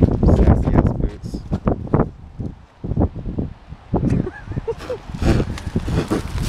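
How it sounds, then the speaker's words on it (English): Wind blowing outdoors during a Beltane celebration, gusty rumble and buffeting on the microphone beneath near, frequent conversation. "It's windy. If you couldn't tell."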